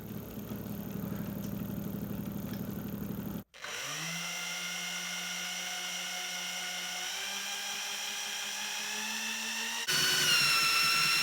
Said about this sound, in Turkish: Kapasitörlerden ise motorumuz çalışmaya başladı.